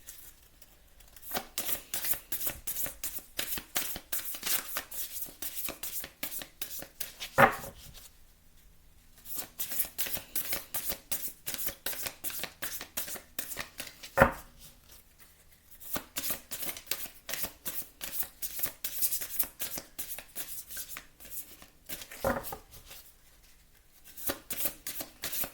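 A deck of tarot cards is shuffled close up, repeated rapid riffling bursts of crisp flicking with short pauses between shuffles and occasional sharper snaps as the cards bridge.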